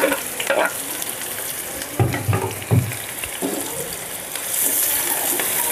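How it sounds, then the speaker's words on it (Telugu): Sliced onions frying in hot oil in a wide pot for chicken dum biryani, a steady close sizzle broken by a few stirring scrapes and knocks. "ఫస్ట్ ఆనియన్స్ ఫ్రై చేసుకుందాం"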